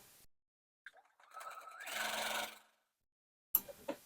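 A sewing machine stitches a white rectangle onto the end of fabric strips for a quilted table runner. There is a single brief run of stitching, close and moderately loud, with a few faint handling clicks around it.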